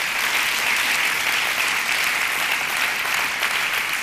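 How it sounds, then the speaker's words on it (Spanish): A church congregation at a conference in Nogales applauds loudly: dense, sustained clapping from a crowd, steady and even throughout. "Dale un fuerte aplauso a Cristo Jesús esta mañana."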